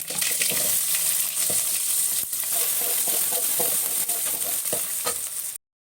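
Steady broadband sizzle of finely chopped onions frying in hot oil, loud and close, with occasional stirring clicks and no talking.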